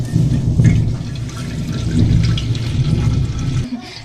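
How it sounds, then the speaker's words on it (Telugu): Milk being poured into a pan on the stove for sugar-free payasam, a loud, close, continuous liquid rush that cuts off abruptly near the end. "ఇంకా పాలు అయితే వేసేసుకుందాం."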